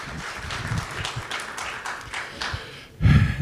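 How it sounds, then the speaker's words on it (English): Audience applause at the 60 Million Congress in Miami, a steady wash of many hands clapping that swells, dips briefly, then surges louder at the end. "Can I get a round of applause for Professor Dr."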